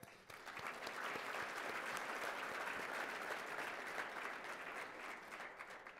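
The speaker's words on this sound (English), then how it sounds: "I think we need to give them a round of applause" Sustained applause from a banquet audience at a scholarship dinner, a dense, steady wash of clapping that swells in and holds evenly before easing slightly at the end, with no voices over it.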